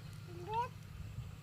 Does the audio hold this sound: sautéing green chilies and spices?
no